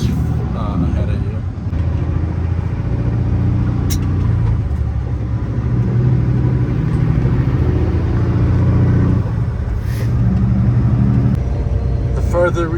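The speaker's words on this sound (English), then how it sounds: "We're slowly driving because the road is like really bad." A semi truck crawling slowly over a badly rutted road gives a low, steady engine rumble with bumps and rattles, while a person talks over it throughout.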